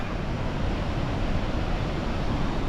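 A waterfall on an Alaska trip pours in a steady, broadband rushing roar that stays even and unbroken throughout, with no voices.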